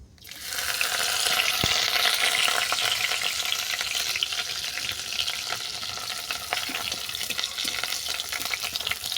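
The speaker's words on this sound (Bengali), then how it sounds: "রসুনটাকেও লাল লাল করে ভেজে নেব" Chopped garlic hits hot oil and sizzles loudly, a dense, continuous frying hiss with small crackles throughout.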